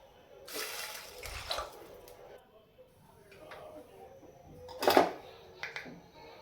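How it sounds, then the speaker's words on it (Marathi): Water is poured into a frying pan of sautéed ingredients with coriander while cooking ukad shengole, giving a splashing burst near the start and a sharper, louder splash later, with quieter kitchen noise between. "आणि हे परतून झाल्यानंतर पाणी टाकून घ्यायचं"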